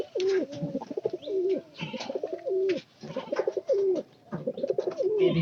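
Pigeons in a loft give close, repeated throaty coos in a steady rhythm of roughly one call each second, with no speech over them.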